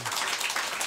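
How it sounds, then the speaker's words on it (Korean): A church congregation breaks into applause, a dense burst of many hands clapping at once, fairly loud and lasting under a second with no voices over it. "박수 한번 칩시다."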